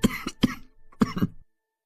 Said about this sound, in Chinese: 猛地咳嗽2声